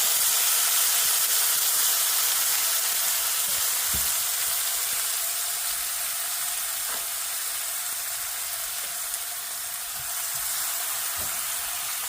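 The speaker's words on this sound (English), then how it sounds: "now I'm going to just saute" Fresh bean-burrito ingredients seasoned with salt sizzle and hiss steadily in a hot pan, a continuous loud frying wash with a few faint stirring knocks and no talking.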